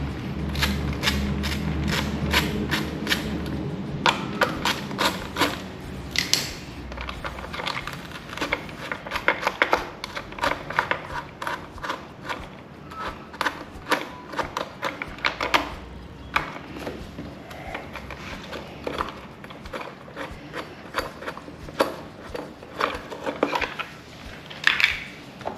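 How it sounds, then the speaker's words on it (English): A 10mm socket removing the rear plastic cowling on a PW50/CRF50 mini dirt bike: busy close metallic clicking and rattling of the tool and parts, continuous and fairly loud, with no speech. "we'll start with taking the rear cowling off with the 10mm socket"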